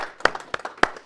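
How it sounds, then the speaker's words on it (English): A few scattered hand claps at a business breakfast seminar, three or four sharp, separate claps from a small audience, close and brief. "And an applause."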